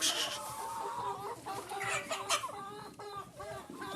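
Chickens, including a bantam hen, clucking around a coop, several close, busy overlapping clucks and calls with no talking.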